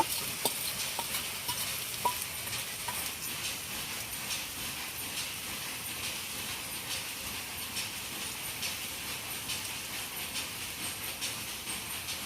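Steady hiss of pangas fish frying in a pan with occasional soft scrapes of stirring, continuous and fairly quiet, no voices.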